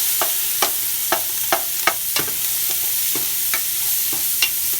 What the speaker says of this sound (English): 2 tablespoons of butter to the pot. Let's mix that around.